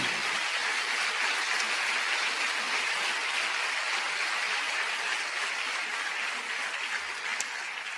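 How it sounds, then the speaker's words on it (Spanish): A church congregation claps in sustained, dense applause that holds steady throughout and eases slightly near the end. "¿Cuántos le dan un aplauso a él?"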